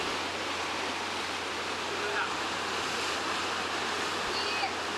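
Ocean surf surging into a sea grotto on Saipan, a dense continuous roar and wash of water that stays loud and steady throughout, with no clear breaks between surges.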